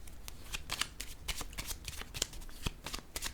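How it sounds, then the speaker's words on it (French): Tarot cards handled during a card reading, soft close shuffling and flicking of the deck in quick rustling bursts, quiet with no voice over it. "Je vais déposer une carte sur stop."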